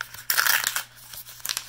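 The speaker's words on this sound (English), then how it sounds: "let's see, let's tape it there." Tape being pulled and pressed onto a plain white envelope, with close crinkling and tearing bursts, a long rustle followed by a few short crackles near the end.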